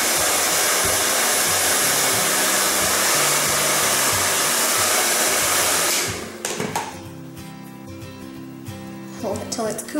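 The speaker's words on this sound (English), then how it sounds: "Give it a blast of heat." A heat gun blasts hot air onto a printed vinyl skin being applied, a loud steady roar for about six seconds before it cuts off, followed by quieter handling noises.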